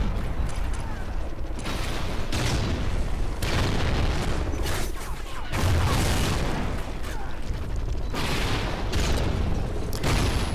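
Concussion grenade blasts and gunfire in the shooter game Call of Duty: Ghosts, heard as dense, continuous loud booms and mechanical clatter with repeated bursts across the whole stretch.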